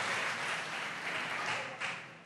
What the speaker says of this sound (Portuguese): E por favor, dê para Deus uma linda salva de palmas.